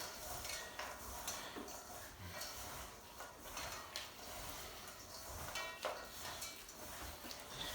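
Walnuts, sugar and softening butter being worked together by hand in a bowl: soft, steady crunching and squishing with a few faint knocks, quiet and close, no voices.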